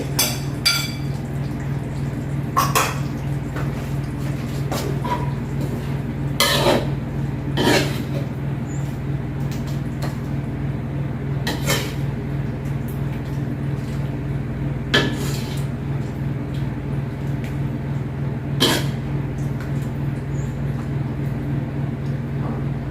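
Pork cartilage curry ladled into a serving dish, with scattered clinks of ladle against pot and dish over a steady low kitchen hum, the contacts spaced irregularly across the stretch.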